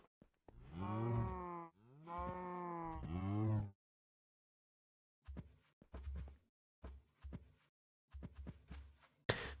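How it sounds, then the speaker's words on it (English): Minecraft cows moo in the video game, three long drawn-out lowing calls up close, followed by a scatter of short clicking game sounds. "Why are there just cows?"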